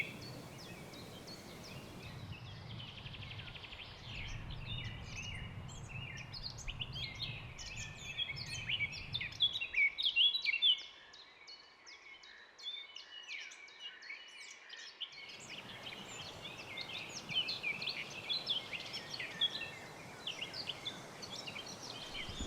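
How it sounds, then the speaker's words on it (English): Many birds chirp and sing densely in a German national park, close and continuous, over a soft rustling bed of leaves that drops away briefly midway and then returns. "the only sound are the rustle of the leaves and the singing of the birds"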